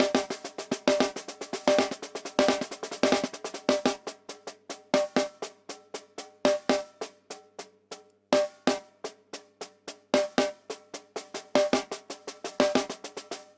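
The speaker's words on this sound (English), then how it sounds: "That is a six stroke." A snare drum played alone in short bursts of six-stroke rudiments, each group mixing accented and softer hits, repeated with brief pauses between them.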